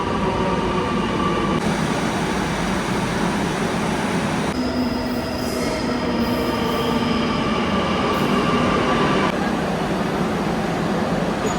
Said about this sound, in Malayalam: അതൊരു മെട്രോ വരുന്നുണ്ട്.